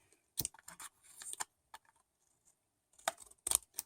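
Scissors cut through a sticker-decorated paper card, making a series of crisp, close snips and rustles in short irregular bursts with pauses in between.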